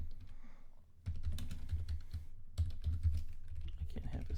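Fingers type a password on a computer keyboard, with quick close key clicks in two bursts separated by a brief pause, fairly quiet and with no talking.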